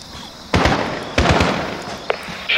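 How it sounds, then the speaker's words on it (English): Sharp gunshot cracks ring out in a Modern Warfare 2019 campaign mission, several loud bursts in quick succession with echoing tails and a later smaller pop, no voices in between. "Shot fired."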